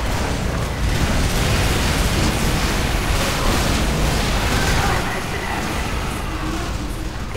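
Loud, continuous rumbling explosions fill a Team Fortress 2 match, a dense wall of booming blasts with little pause.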